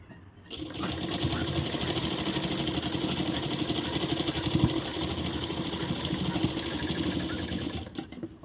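A sewing machine runs steadily while stitching blouse fabric, a continuous close mechanical whir from start to finish with no break in rhythm.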